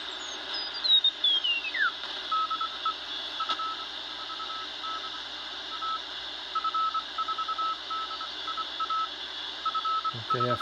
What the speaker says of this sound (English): Let's try some CW here.